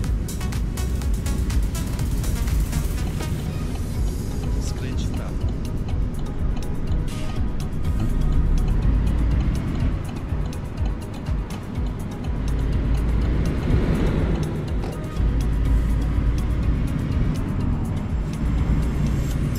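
A DAF 105 truck in Euro Truck Simulator 2, stock game version, its engine and exhaust droning steadily and loud throughout with a deep rumble and slight surges, no voices over it.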